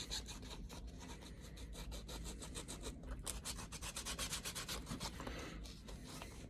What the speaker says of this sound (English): I can just take my little piece of sandpaper.